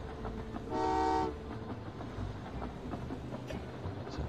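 A coal train in the railway puzzle game Train Valley 2 sounds a single short, clear whistle toot of about half a second over quiet game ambience.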